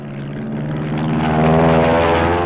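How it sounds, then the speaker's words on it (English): A Grumman F7F Tigercat twin-engine fighter bomber with Double Wasp engines drones past in flight, its loud propeller roar steady and rising slightly. "The F7F, known as the Tigercat, a new twin-engine fighter bomber."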